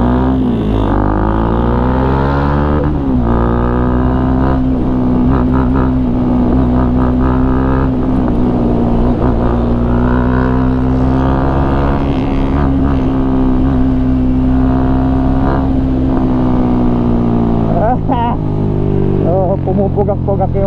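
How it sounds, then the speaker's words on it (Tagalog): A loud motorcycle engine runs continuously up close, sputtering, its rough rumble wavering and uneven rather than smooth. "Pugak-pugak yung motor ko."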